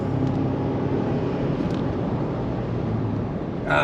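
A 2019 Ford Ranger fitted with a Banks Pedal Monster throttle controller accelerates hard, with a steady, loud engine and road roar that holds throughout and a brief swell near the end.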